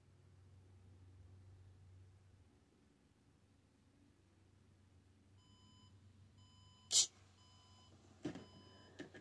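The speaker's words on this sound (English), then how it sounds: "Guys, that is my alarm." An alarm beeps in a repeating electronic pattern during a Roblox hide and seek session, fairly faint at first and then followed by a few louder sharp clicks or bangs near the end.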